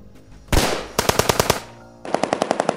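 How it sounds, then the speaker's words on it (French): Gunfire outside comes in rapid bursts: one sharp blast, then a quick volley of shots, a short pause, and another fast rattling string of evenly spaced shots, all loud and close. "j'ai entendu des coups de feu dehors."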